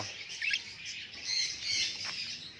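Several budgerigar chicks, just taken from their nest and separated from their parents, give thin high chirps and tweets that rise and fall over a steady soft background, close by and fairly quiet.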